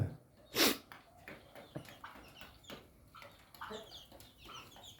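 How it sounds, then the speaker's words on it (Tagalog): Native chickens cluck and squawk nearby in quiet, scattered bursts, with one sharp loud squawk early on. "Aming mga manok."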